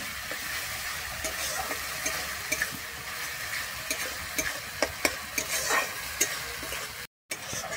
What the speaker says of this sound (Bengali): টক দইটা দিয়ে কিন্তু খুব ভালোভাবে নেড়ে নিতে হবে